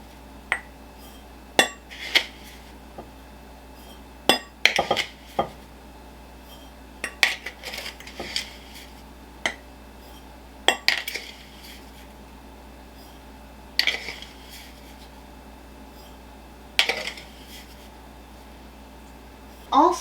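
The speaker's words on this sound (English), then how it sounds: "I'm just going to very quickly measure out my sugar so that it's ready" A metal spoon clinks against a bowl and jar in a home kitchen while sugar is measured out for beautyberry jelly canning, sharp separate taps spaced irregularly with a hum underneath.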